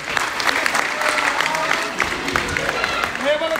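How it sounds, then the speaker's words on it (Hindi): Gathering at a Shani temple claps loudly on request, a crowded patter of hands mixed with murmuring voices and a brief raised voice near the end. "तालियां बजा दे जोर से"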